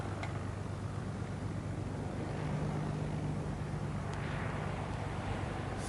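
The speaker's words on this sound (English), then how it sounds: "Here comes a plane in for landing." A plane descending toward Eagle Creek Airport makes a faint, distant, steady engine drone that hangs over a quiet outdoor background.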